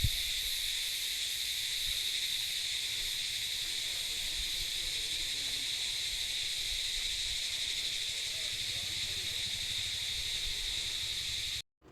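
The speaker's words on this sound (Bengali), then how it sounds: "ডাহুলের এই জঙ্গলে দিনের বেলা তো রাতের মতো সব ঝিঁঝি পোকা, নানা ধরনের পোকামাকড়ের ডাক শোনা যাচ্ছে" Dense insects and crickets calling in Dowhill pine forest in daytime, a steady, even hiss of shrill chirring that holds without pause, with no talk.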